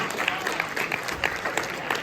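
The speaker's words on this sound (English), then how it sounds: "give yourself a round of applause for being such great students" School students at an academy rally clap in applause, a soft, steady patter of many hands heard from a distance with some crowd murmur and a voice underneath.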